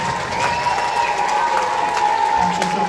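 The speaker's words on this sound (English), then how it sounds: "please, applause for the parents" Steady applause from a jazz band concert audience fills the whole stretch, a dense patter of clapping with a faint sustained tone running underneath.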